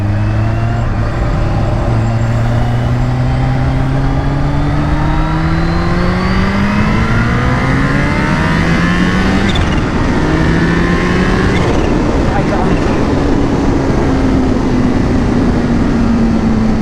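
A Hummer H2 truck engine revs hard and accelerates through second gear at night, loud and continuous, with rising engine tones climbing in pitch, dropping at the shift and climbing again, no talking.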